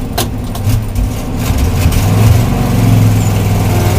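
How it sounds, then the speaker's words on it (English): Pickup truck engine driving off a slick clay road onto wet grass, a steady low rumble that swells slightly as it pulls forward, close and continuous with no talking. "do a little off-roading with the truck"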